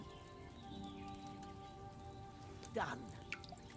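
Liquid trickles steadily into a glass phial during alchemy brewing in the video game Kingdom Come: Deliverance II, a soft continuous splashing patter with a brief louder gurgle near the end; a voice speaks briefly.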